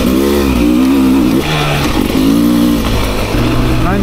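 A 2024 Beta 300 RR Race Edition motorcycle engine revs close by as the throttle is twisted, loud rising and falling bursts with no pauses.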